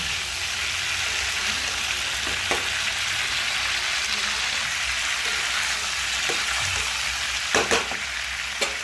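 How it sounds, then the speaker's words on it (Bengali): Boiled potatoes fry in a pan for a vegetarian aloo dum, giving a steady, even sizzle throughout with a few faint utensil clicks near the end. "একটু ভাজা ভাজা হবে।"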